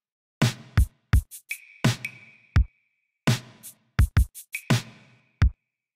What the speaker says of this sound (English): So the next thing I will show you are the drums